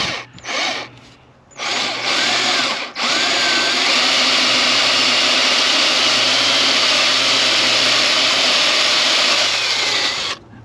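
A power drill bores holes in the transom of an inflatable boat for a wheel bracket, starting with short bursts and then one long, loud, steady whine close by, with no talking.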